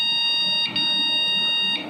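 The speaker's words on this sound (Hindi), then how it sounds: "और बीप दे रहा है सिस्टम।" A desktop PC beeps after its RAM is removed and it shows no display: a steady, piercing electronic tone held through the whole stretch, with brief dips in the middle and near the end, over a low background hum.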